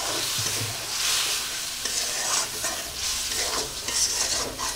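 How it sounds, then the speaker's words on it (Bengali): Spice paste with potatoes and a little water sautéed in a pan for a tilapia curry, with a spoon scraping and stirring through a steady close sizzle and no talking. "অল্প একটু জল দিয়ে আমি মশলাটা একটু কষাই করে নেব আলুর সঙ্গে"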